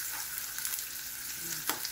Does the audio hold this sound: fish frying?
yes